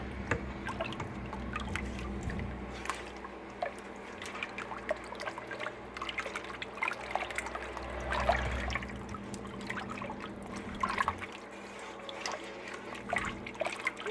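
A spoon stirs a wet chow chow cabbage relish mixture with turmeric powder, giving steady soft sloshing and liquid trickling scrapes for about fourteen seconds, close by and fairly quiet.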